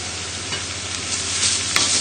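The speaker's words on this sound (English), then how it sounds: "add in the onions. Just add those to the pan" Onions sizzle in a hot pan while being stirred, a close, continuous crackling hiss with soft scraping of the spoon through them.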